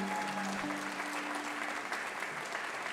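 Audience applause at a Persian music memorial concert, a steady dense patter of clapping from a crowd, continuous and moderately loud throughout.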